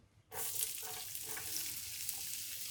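Onions hitting olive oil in a pan, a sudden burst of loud sizzling after a brief quiet moment, then a steady hiss with faint crackles for the remaining couple of seconds.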